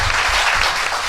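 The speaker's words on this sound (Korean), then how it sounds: "박수." An audience breaks into applause, a brief, dense burst of clapping heard up close with no talk over it.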